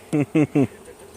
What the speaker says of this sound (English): Oh, you just dumped a whole bunch of bees out.